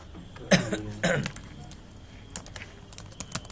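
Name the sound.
typing text on a computer keyboard in MS Word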